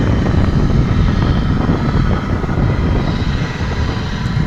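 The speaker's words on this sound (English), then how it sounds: "coming in is going to be that UPS 767 we spoke of a bit ago" A UPS Boeing 767 arrives at Dallas/Fort Worth International Airport, making a loud, steady broadband jet roar that holds evenly throughout, with no talk.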